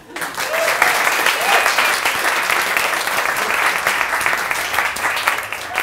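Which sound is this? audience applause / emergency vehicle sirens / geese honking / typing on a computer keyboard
audience applause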